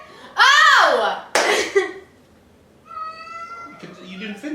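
A female cat in heat yowls loudly up close, long wavering drawn-out cries, followed by a quieter rising tonal call as people talk nearby.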